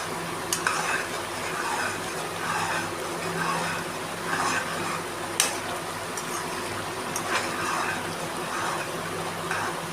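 Coriander powder is stirred into a paneer masala curry, a spoon scraping and clinking steadily in the pan over a soft continuous sizzle, close and fairly loud with no voices.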